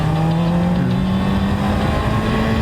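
A Honda CBR600RR 600cc sport bike engine hums close and loud, revving smoothly as its pitch rises slowly and holds steady throughout, with no voices.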